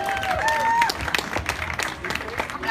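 A concert crowd applauds as a rock act is introduced, with moderate, uneven clapping and a few whistles and voices mixed in.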